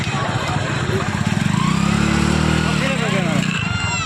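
A motorcycle engine runs close by with a steady droning idle and a rising rev in the middle, loud and continuous, while people talk over it.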